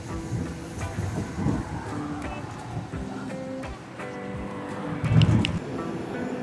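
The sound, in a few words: Bernina Express train descending toward Brusio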